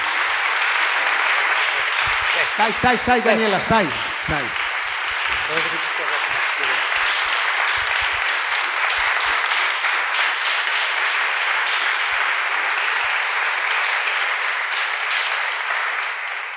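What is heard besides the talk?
audience applause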